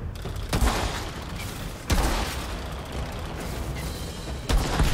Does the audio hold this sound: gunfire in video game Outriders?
yes